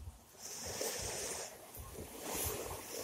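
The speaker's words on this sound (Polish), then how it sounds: "Dzisiejszy aceranek nagrywam nad morzem. Pewnie słychać jego szum." Sea surf washing in at the seashore, a steady broad rushing wash that swells and recedes, with some wind buffeting the microphone and faint talk mixed in.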